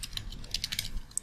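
Quick, uneven keystrokes tapping on a computer keyboard while typing code into an EJS template, close and fairly quiet, with no talking.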